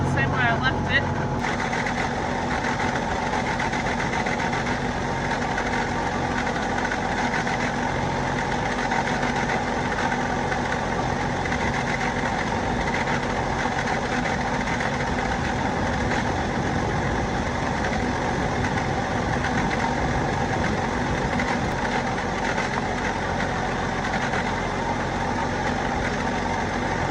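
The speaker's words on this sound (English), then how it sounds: "You always gotta let your tractors warm up before it's pedaled to the metal" A tractor engine idles steadily as it warms up, a constant close rumble with a higher mechanical whine layered on top that runs the whole time, and a voice is heard over it.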